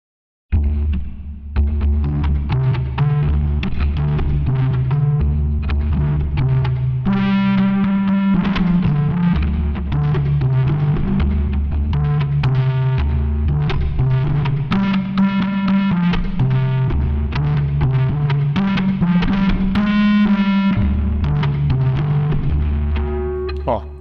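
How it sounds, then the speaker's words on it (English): An electric guitar plays continuously through an Omnisphere distortion effect, producing a loud, thick, buzzing and throbbing tone whose chords shift at a steady pace over about twenty seconds. "Moving to distortion."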